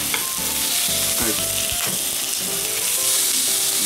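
Meat sizzles and fries on a home yakiniku grill in a steady, crackling hiss that carries on throughout, with light clinks and scrapes on top and no talk.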